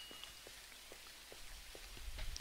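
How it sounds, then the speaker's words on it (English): Rain in the video game Jalopy, falling indoors as faint, steady patter with scattered drip taps, quiet and alone without talk. "Why is it raining inside?"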